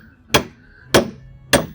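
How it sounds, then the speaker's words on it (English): Three sharp, evenly spaced hammer blows drive bolts during house framing, each a loud close strike with a short ring, with quiet gaps between and no talk. "hammer in the bolts and tighten them"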